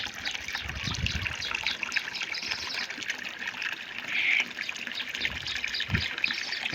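Water runs from a tap into a metal kalshi pot, a steady splashing trickle that stays close and fairly loud throughout, with a few soft low knocks mixed in.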